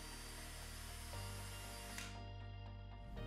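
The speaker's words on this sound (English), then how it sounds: "To make drilling in the screws easier, you may want to pre-route the screw holes first." A power drill whines steadily up close while drilling screw holes for window shade brackets, shifting pitch partway through as it bites in, then slowing down near the end.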